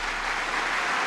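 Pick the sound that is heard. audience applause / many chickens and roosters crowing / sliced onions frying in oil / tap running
audience applause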